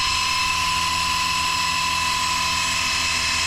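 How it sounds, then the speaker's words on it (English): A drill drives an oil pump to push oil through a long-dormant engine in an abandoned 1964 Chrysler 300K, giving a steady high-pitched whine that runs unbroken and fairly loud with no talk. "Run that drill, Mark."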